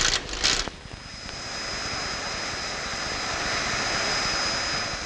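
Alpha Jet military jet engine, a German-French trainer and close-support aircraft, roaring steadily at close range with a sustained broadband rush and a thin high whine, preceded by a few brief bursts at the start.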